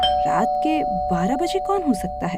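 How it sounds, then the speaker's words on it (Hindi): A steady two-tone electronic chime rings throughout while someone speaks over it, close and clear. "तभी डोरबेल बजी।"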